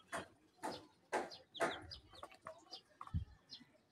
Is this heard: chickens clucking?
yes